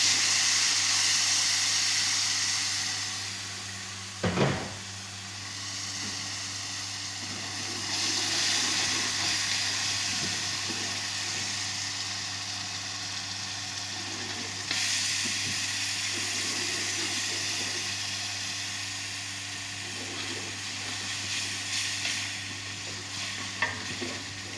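Ginger garlic paste sizzles steadily in a hot pan for fish khichuri, a loud continuous frying hiss with occasional stirring scrapes and one sharp clack of a utensil.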